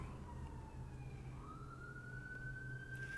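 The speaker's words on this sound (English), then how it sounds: "Confirmation sirens going off in the background." A siren wails faintly in the distance, its tone sliding slowly up and down over a low, steady rumble of traffic.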